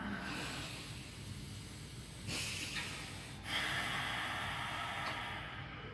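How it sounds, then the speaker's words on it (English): Slow, deep meditation breathing, soft airy inhales and exhales, two or three breaths heard close and quiet over faint hiss. "Deep breath in, deep breath out."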